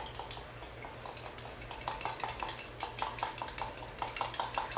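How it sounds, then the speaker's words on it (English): A whisk clinks rhythmically against a bowl while stirring blue-green Goodbye Orange hair toner, the quick metallic taps growing steadier and louder toward the end over a low steady hum. "I'm going to grab this whisk again"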